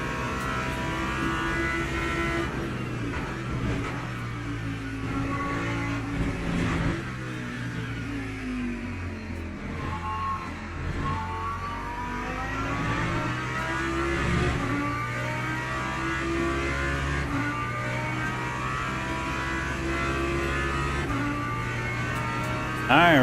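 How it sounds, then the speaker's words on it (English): A BMW hypercar's engine hums and revs steadily in a racing video game, a sustained droning tone with gentle rises and falls running throughout, fairly loud and continuous. "BMW hypercar."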